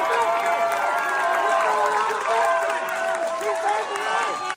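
A town hall crowd claps and shouts for a veteran, a dense wall of applause mixed with raised, overlapping voices and yelling, loud and continuous throughout before cutting off suddenly.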